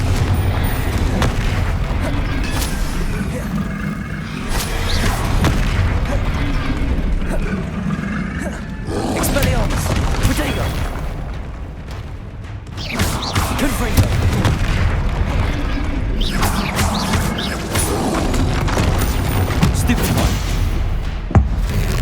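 Repeated Confringo fire-spell blasts from Hogwarts Legacy, booming explosive bursts that recur throughout under continuous game audio and overlapping voices.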